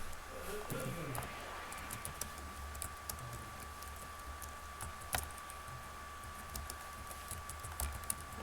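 Quiet clicking of computer keys while typing into chat in a Pixelmon game, scattered light taps over a low steady background hum, faint and close-miked, with some speech present.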